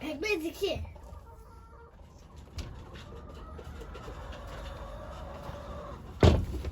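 A few short clucks from a chicken, close by and fairly soft, with a faint voice early on and a thump near the end.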